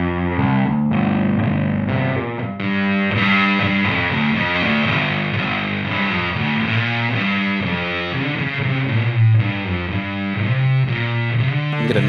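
A heavily distorted electric guitar through a distortion pedal plays continuously with a thick, fuzzy, woolly tone, loud and sustained chords ringing throughout.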